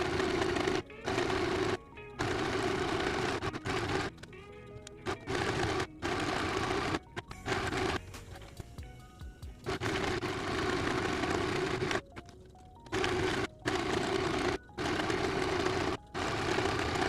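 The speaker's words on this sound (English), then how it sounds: "we're just going to sew on a straight stitch from the side over here" A sewing machine runs a straight stitch along fabric in repeated loud bursts of steady mechanical whirring, each lasting a second or two and separated by brief pauses, close to the microphone.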